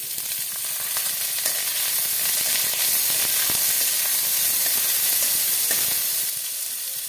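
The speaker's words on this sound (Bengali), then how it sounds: "পেঁয়াজটা ভাজা হয়ে গেছে, দিয়ে দেবো আলু" Onion and potatoes frying in oil for palong shak bhaja, a loud, close, continuous hissing sizzle with occasional faint clicks of a utensil, steady throughout.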